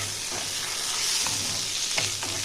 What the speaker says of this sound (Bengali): এবার এটা আমি আস্তে আস্তে ভাজবো, যেহেতু আমি এটা ঢাকা দিয়ে লো ফ্লেমে এটাকে ভাজবো 2 থেকে 3 মিনিট।